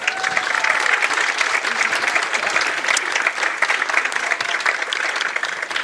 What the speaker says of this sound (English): as you can hear through the special effects microphone, a nice little crowd building here at Lavington